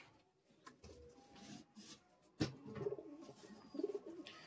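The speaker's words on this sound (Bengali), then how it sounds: "মাদা নর পায়রা, এক জোড়া পায়রা।" Madrasi pigeons coo softly in a loft lined with rows of nesting boxes, a few low throaty calls rising over faint background rustle and distant noise.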